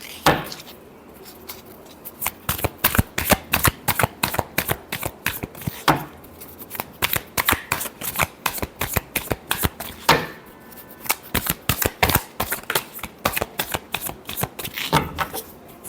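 Tarot cards being shuffled by hand, a dense run of crisp riffling clicks in bursts with brief pauses, close and fairly loud, no talking.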